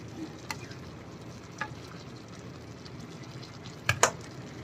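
China corn vegetable dish cooking in a pan, a steady low sizzle and gentle frying hiss with a few faint clinks of a utensil against the pan.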